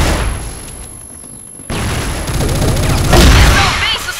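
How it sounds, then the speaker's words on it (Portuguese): A grenade in a video game goes off after a short quiet stretch, with loud bursts of gunfire and blast noise building toward the end. "Toma, granada!"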